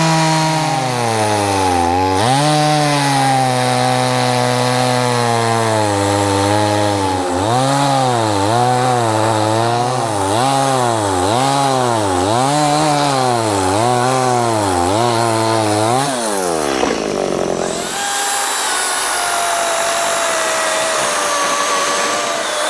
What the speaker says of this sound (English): I'm gonna try and cut through this piece of wood as fast as I possibly can with 2 different chainsaws